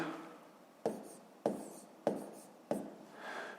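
Pen writing numbers on paper during a fifth-grade math subtraction exercise: four distinct scratchy strokes spaced at roughly even intervals, close and quiet, with no talking.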